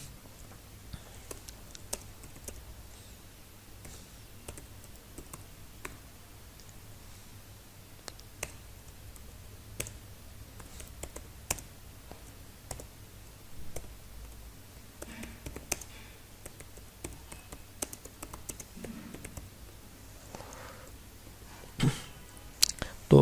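Computer keyboard keys clatter as PHP code is typed, light irregular clicks and bursts of tapping that run through the whole stretch under occasional soft speech.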